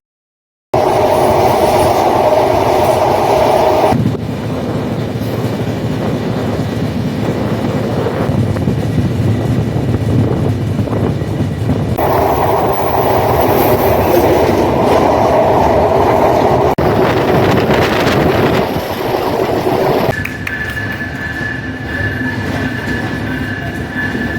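Ruposhi Bangla Express passenger train running near Benapole, a loud continuous rumble of wheels and carriages with shifting rail clatter and squealing tones, steady throughout with no talking.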